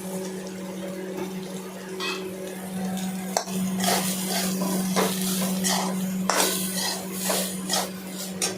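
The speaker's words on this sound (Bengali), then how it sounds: "এরপরে আমি এই ঘুগনি মশলাগুলো দিলাম" Ghugni spice mix being stirred into a pan, soft metallic scraping and clinks of a utensil against the cookware, with a steady low hum underneath throughout.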